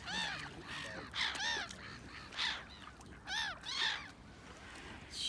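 Gulls on the water calling repeatedly in short, harsh bursts, several squawks spaced through the stretch over a quiet outdoor background, moderately close, near swans.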